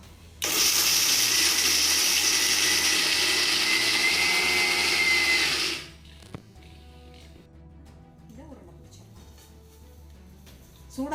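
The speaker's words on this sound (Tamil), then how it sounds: "இப்போ அரைச்சிக்கலாம்." A mixer grinder grinds sesame seeds and jaggery, giving a loud, harsh motor whir that starts abruptly and runs for about five seconds before cutting off, leaving quieter handling noises.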